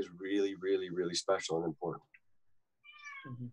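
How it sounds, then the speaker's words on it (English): A house cat meows during a remote film industry conversation, a few short cries around a person's speech, close and clear against a quiet background. "I was laughing at the cat meowing."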